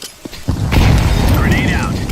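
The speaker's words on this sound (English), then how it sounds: "Grenade out." A thrown grenade explodes in a video game with a loud, booming blast that swells and then lingers as a rumbling roar. A short whistling tone rises and falls near the end.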